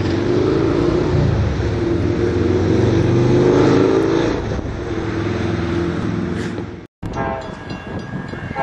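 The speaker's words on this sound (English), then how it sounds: "Here comes Amtrak." An Amtrak passenger train approaches through Royal Oak, Michigan, a loud continuous rumble and rail roar building close by, with a horn-like tone and a brief cut before the clatter continues.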